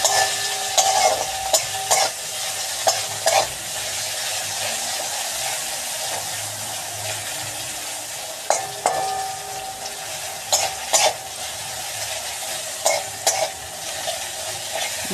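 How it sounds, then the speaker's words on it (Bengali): Eggplant pieces fry in hot oil with a steady close sizzle, broken by repeated stirring scrapes and clinks of a utensil against the pan. "বেগুনগুলো ভেজে নিচ্ছি।"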